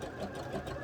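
Sewing machine top stitching the seams on stretchy wrestling tights, a quiet, steady whirring with a fast, even rhythm of needle strokes.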